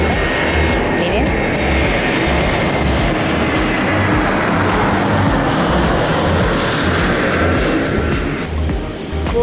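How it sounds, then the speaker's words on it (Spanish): Airplanes passing low overhead near an airport by the beach, a loud continuous engine roar with heavy rumbling wind buffeting throughout, filling the whole stretch before easing slightly at the end. "pasan los aviones acá por arriba mío"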